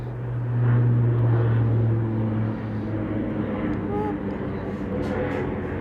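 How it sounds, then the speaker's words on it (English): A plane flies overhead near an airport, its engines a loud, low continuous rumble that peaks early and then fades slowly into a lingering drone. "I'm so sorry if you hear planes going over."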